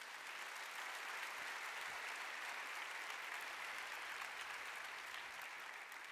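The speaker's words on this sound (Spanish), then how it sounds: "¿Cuánto le da un aplauso al Señor por eso?" A church congregation applauds for the Lord with sustained, dense clapping that holds steady and fairly distant for several seconds, with no voices above it.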